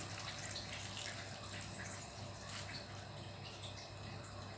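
Boiled noodles and chili sauce are poured over a large bakso meatball, making a faint, steady wet pouring and splashing sound that runs for several seconds with no talk.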